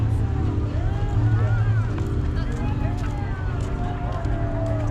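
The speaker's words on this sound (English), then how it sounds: "Here comes the party boat." A party boat's engine drones steadily nearby on the water at St. Augustine, with loud broadband water and motor noise throughout and no clear voices.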